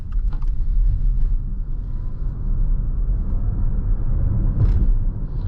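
Electric motors of a 2023 Subaru Solterra Touring accelerating on the road, heard as a steady low rumble of tyre and cabin noise with a faint rising motor whine, no talking.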